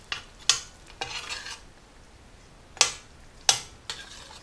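A spoon stirs palm sugar into a pot of green curry with coconut milk, kaffir lime leaves, zucchini and eggplant, giving a few separate close scraping strokes with quiet gaps between them.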